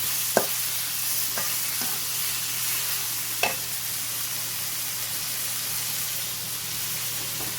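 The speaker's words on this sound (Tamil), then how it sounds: "இப்போ தக்காளி போட்டுக்கலாம் அதையும் நல்லா வதக்குவோம்" Tomatoes sautéed in a pan for pepper chicken masala, an even close hiss of frying with a handful of sharp spatula knocks near the start and middle, no voices.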